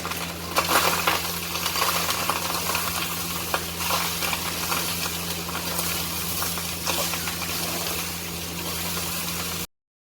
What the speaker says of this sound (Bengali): এখানে ভাতটা ভাজা হচ্ছে।